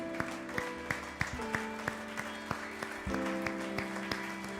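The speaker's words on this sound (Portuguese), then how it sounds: "Aplauda ao Senhor Jesus com alegria" A church congregation at a celebration service claps in a steady rhythm along with sustained keyboard chords, the evenly spaced claps sounding fairly soft against the music.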